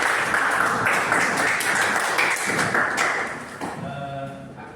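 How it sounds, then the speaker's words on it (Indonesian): A class of students applauds a good question in a teaching session, a burst of close, fairly loud clapping that tapers off toward the end. "kita apresiasi dengan tepuk tangan"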